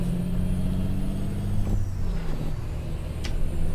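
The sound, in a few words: truck jake brake in American Truck Simulator video game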